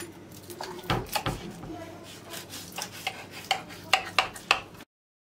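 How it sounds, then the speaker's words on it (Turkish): Baked pasta sliced in its pan, with a run of scraping, clinking utensil-on-dish taps that grow sharper and more frequent toward the end, close and moderately loud. "Fırın makarnayı da keseyim."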